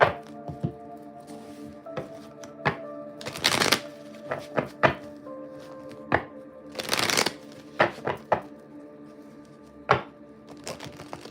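A deck of tarot cards is shuffled by hand in sharp irregular riffles and taps, with two longer bursts of fast riffling between scattered single card snaps, close and clear.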